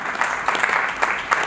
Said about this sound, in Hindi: जोरदार तालियां आप उनके लिए बजाएं